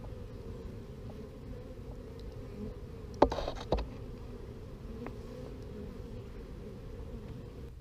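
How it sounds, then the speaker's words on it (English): Honey bees buzz softly at a hive entrance late in the day, a faint steady hum with a few louder passes close by, no talking. "There's bees in the entrance flying right at us"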